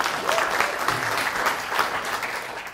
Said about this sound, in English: let's have a big round of applause for you guys